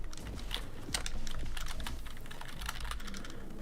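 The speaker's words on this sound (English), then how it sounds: "I'm on a new keyboard, so I might suck at this." Continuous fast typing on a new computer keyboard, a dense run of close, crisp key clicks with no voices.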